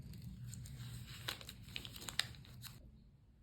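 Quiet snipping and rustling as fabric for a couture bow piece is cut from a pinned pattern, a series of crisp cuts and paper crinkles over a low room hum.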